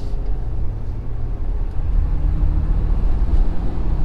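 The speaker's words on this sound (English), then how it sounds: "I could hear the whistle of the turbo." 2020 Ford F-350 Platinum pickup with a 10-speed transmission accelerating hard, a steady, loud low-end engine roar filling the whole stretch with no talking; any turbo whistle sits buried in the drone.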